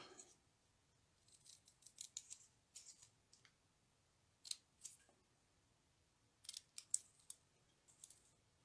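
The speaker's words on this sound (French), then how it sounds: "Je vais venir couper sur le côté pour faire des petits fanions." Small scissors snipping paper to cut little pennants for a Christmas gift box, quiet crisp clicks in short bursts with pauses between them, close by.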